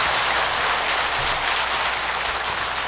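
Listeners at an afternoon session of a Buddhist bodhisattva precepts gathering applaud a professor's talk, a loud, even wash of clapping from many hands that holds steady throughout.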